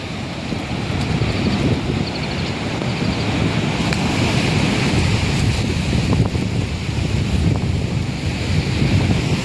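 A rough sea surges and crashes against a slippery, seaweed-covered rocky shore in a loud, unbroken roar, with wind rumbling across the microphone throughout.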